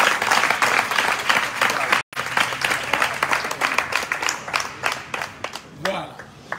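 An audience applauds young people at a gathering at Hôtel Les Marines in Assinie, steady sustained clapping from many hands close by, with a brief break before it resumes.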